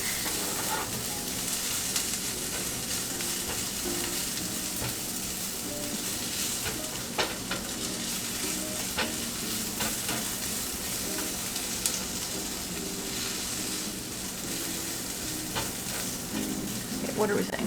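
Food sizzles and crackles steadily in a hot pan, with occasional scrapes of stirring under the constant frying hiss.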